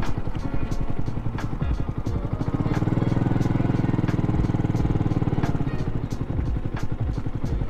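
A Yamaha YZF R125 sports bike's engine runs loud and close throughout, with a steady low rumble that thickens in the middle as the rider pulls over, plus rhythmic clattering ticks over the top.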